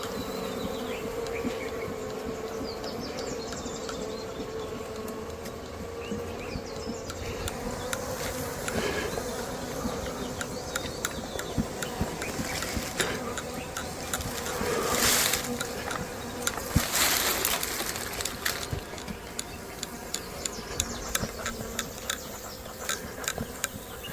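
Honey bees buzz steadily throughout an outdoor honey harvest, a dense close swarm drone with occasional louder passes of individual bees near the hive.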